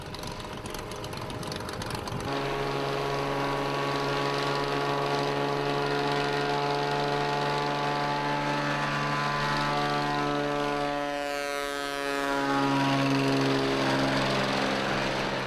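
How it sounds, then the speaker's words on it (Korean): A light floatplane flies near Kodiak Island. Its propeller engine drones loud and steady and fills the air, with a pitch shift as it sweeps past close by. "갑자기 육지로 이동할 사람이 생기거나 필요한 물건이 떨어졌을 때 요긴하게 쓰이는 것이 바로 이런 경비행기다"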